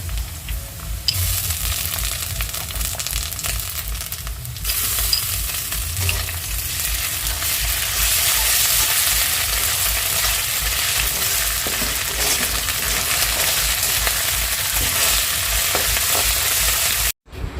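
Green chilli paste, ground spices and ginger fry in a pan with a loud, continuous sizzle and occasional stirring scrapes, with no talk, until the sound cuts off abruptly at the end.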